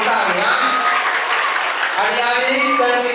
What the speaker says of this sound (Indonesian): langsung tepuk tangan semuanya